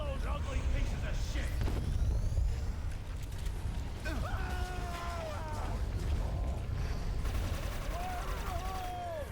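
Gunfire crackles in the shooter video game Inversion, with bursts of shots and explosive effects mixed among other game sounds and a talking player.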